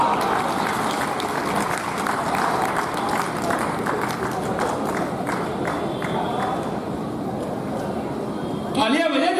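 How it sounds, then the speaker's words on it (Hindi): Applause from the audience at a Hindi kavi sammelan poetry recital at the Uttarakhand Mahotsav, a dense steady clatter of many hands filling the hall for about nine seconds before cutting off abruptly near the end. "तालियां बजे जोरदार"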